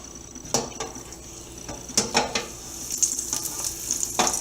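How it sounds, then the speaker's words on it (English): Chicken Kiev frying in clean grease in a deep fryer set at 350, a soft steady sizzle with occasional clinks and metal knocks spread through, close and fairly quiet. "here we are at the deep fryer. I'll take our Kiev"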